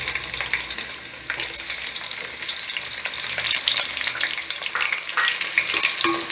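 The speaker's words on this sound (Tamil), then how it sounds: "இப்போ இதனோட நம்ம கட் பண்ணி வச்சுருக்கோம் இந்த வெங்காயம் சேர்த்திடலாம்." Chopped onions hit hot oil and ghee with cloves, cinnamon and cardamom for Chettinad mutton biryani, a loud, dense sizzle up close with stirring scrapes, dipping briefly then swelling steadily.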